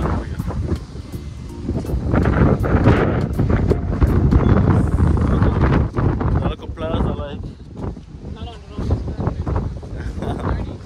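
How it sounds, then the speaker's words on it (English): Strong wind buffets the microphone outdoors, loud gusty rumbling throughout, with people talking through it. "So windy."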